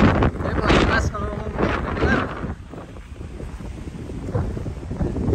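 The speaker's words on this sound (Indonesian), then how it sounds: "Cuma sayangnya angin lagi kenceng banget ini." Strong wind batters the microphone at an outdoor spot in Guanyin, Taoyuan, roaring and gusting loudly throughout while a person talks over it.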